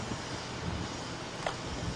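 A small engine runs on a Geet fuel processor, with its fuel vapor fed through a hose to an adjustable fresh-air valve. It makes a steady, close droning hum with one faint brief knock near the end.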